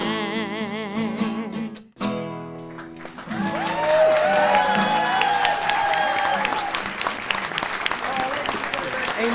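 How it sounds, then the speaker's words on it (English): A live studio audience breaks into loud, sustained applause and cheering that swells and continues across the room, with music fading out at the start and a voice underneath. "A massive round of applause there"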